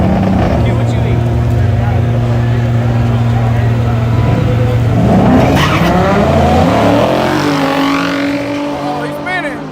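A drag car spins its tires at a no-prep drag race at night, loud engine roar and squealing tire noise rising then falling away over several seconds, with people talking nearby.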